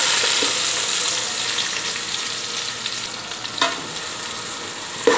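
Onions frying in oil for a rice and chicken dish, with a steady close sizzle throughout and a few brief stirring clatters near the end.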